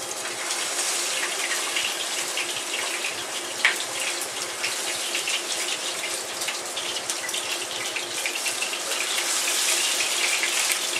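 Oxtail pieces browning in hot oil in a pan give a dense, continuous sizzle with small pops of splatter, close and loud throughout, with no voices.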